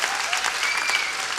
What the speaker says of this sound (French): Qui a vu mon premier one-man show? Applaudissements.